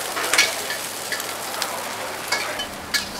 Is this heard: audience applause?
no